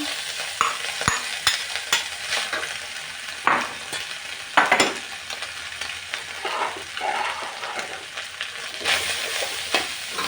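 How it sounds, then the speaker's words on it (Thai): Fermented pork (nham) fried rice with egg being stir-fried in a pan, a continuous sizzle broken by sharp clattering scrapes and taps of a spatula at an irregular pace. "จะผัดให้เครื่องเข้ากันนะคะเพื่อนๆค่ะ"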